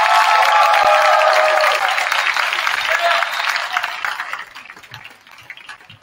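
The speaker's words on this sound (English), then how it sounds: "Let's give them a round of applause." Crowd applause in a high school gym for senior varsity basketball players at a Harborfields versus Elwood men's game, loud and dense at first, then thinning and fading over the last few seconds.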